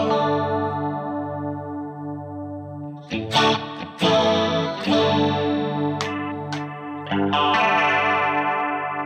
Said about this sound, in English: Now I dig that dimension C.